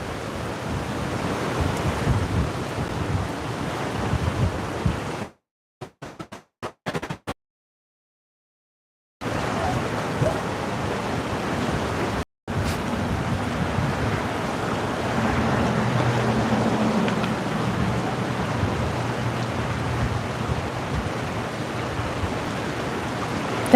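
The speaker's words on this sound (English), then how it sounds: "Much more windy today than it was last night." Strong wind blows beside a river, a steady roar of gusts buffeting the microphone with water rushing underneath, interrupted midway by a few seconds of dropout and silence before resuming.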